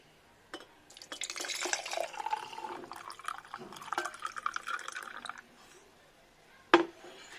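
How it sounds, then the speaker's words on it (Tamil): Homemade rose milk poured into a glass over ice, a steady close liquid pour lasting several seconds before tapering off, followed by a single sharp clink of glass near the end. "நம்ம இப்போ வந்து ரோஸ் மில்க் ஊற்றிடலாம்."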